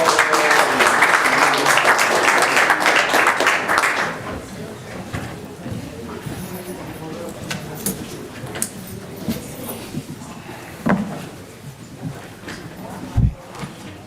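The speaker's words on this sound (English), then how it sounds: "Let's have one more round of applause" Audience at a school board business meeting applauding, a full round of clapping for about four seconds that fades into room murmur, shuffling and occasional knocks, with people talking.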